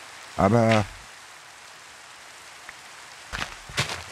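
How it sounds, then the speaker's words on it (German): Steady rain falls in Minecraft 1.16.4 as a faint continuous hiss, with brief speech at the start and a few small clicks near the end. "Mir geht der Regen gerade voll auf den Senkel"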